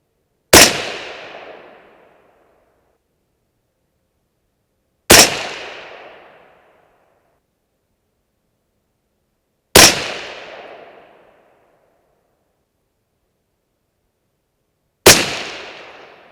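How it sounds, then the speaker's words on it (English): Four loud, sharp 6.5 Creedmoor rifle shots, fired with Barnes TTSX and Cavity Back MKZ bullets over H414 powder, come evenly spaced about four and a half seconds apart, each with a booming tail that decays into silence; no talking. "Let's keep shooting."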